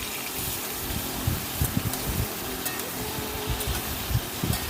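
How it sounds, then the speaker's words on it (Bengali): Eggplant pieces sizzle and hiss in hot oil in a pan as they are stirred and fried for a curry, producing a steady, close frying sound with occasional soft scraping clatter. "নেড়ে চেড়ে আমি বেগুনগুলো ভেজে নিচ্ছি।"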